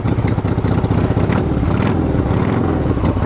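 Cast iron 1976 Harley-Davidson Ironhead chopper bobber engine idling loud and close, a dense, continuous rumbling throb with uneven low pulses and no talk over it.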